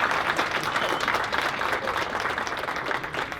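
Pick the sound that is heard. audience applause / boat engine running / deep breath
audience applause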